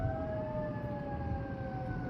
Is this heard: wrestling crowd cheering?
no